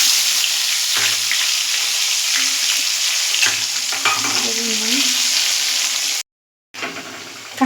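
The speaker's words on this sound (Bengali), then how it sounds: "এগুলো আমি এর মধ্যে ভেজে নেব" Halved jackfruit seeds fry in hot oil with a steady, close sizzle and occasional scraping from stirring, broken by a short silent gap before the crackle returns.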